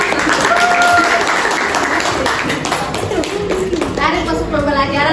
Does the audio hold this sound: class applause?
yes